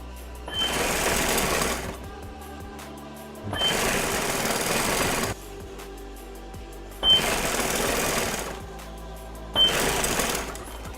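A sewing machine stitches vinyl piping for car seat upholstery in four rapid, close bursts of about two seconds each, separated by short quiet pauses, with a low hum underneath. No talking.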